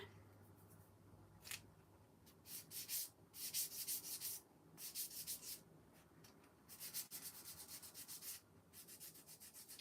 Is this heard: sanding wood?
yes